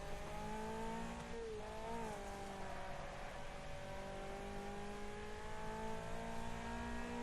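Race cars in the Wreckfest video game rev through a corner, a loud droning engine note with pitch dips and rises as throttle shifts, steady and close throughout with no voices.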